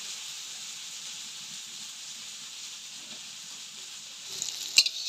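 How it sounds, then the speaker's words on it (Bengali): Onion, potato, ginger-garlic paste and tomato fry in a pan with a steady, bright sizzle, and a few clattering stirs come near the end. "আদা রসুন দিয়ে ভালো করে ভাজতে ভাজতে এবার এর মধ্যে টমেটোটা দিয়ে দিই"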